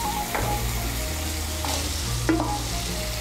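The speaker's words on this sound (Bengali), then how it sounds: "গাজর আর ফুলকপিটাকে ভালো করে মিশিয়ে নেব। মশলার সঙ্গে মিশিয়ে নিয়ে একটু ভেজে নেব।" Fried carrot and cauliflower are stirred with spices in a pan alongside peas and beans for a vegetable moong dal. A steady close sizzle runs throughout, broken by repeated scraping stirs, with no one talking.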